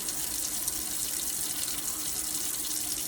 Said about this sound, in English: And then I just gotta rinse it off.